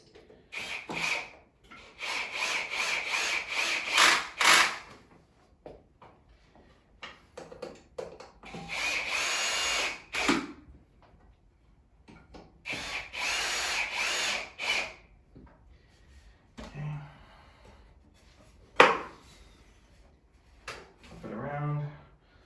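A power drill whirs in several short bursts, separated by pauses, with scraping sounds and faint clinks as 2.5-inch screws drive into the wood of a climbing triangle nearby.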